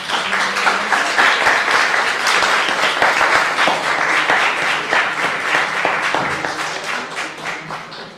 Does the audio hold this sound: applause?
yes